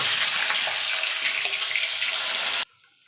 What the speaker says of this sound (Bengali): দেখুন বন্ধুরা, মশলাটা ঢেলে দিয়েছি।